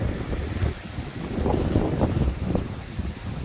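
Strong wind buffets the microphone on Association Island, New York, a close, gusty roar with low rumbling surges and faint water sounds beneath, no speech.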